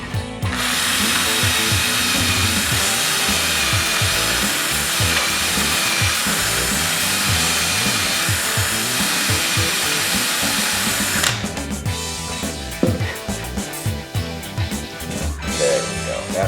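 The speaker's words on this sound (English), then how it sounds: "drilling out these barrels so that they look like real barrels." A power drill grinds steadily into plastic prop gun barrels for about eleven seconds, then stops, followed by scattered clattering and rubbing sounds.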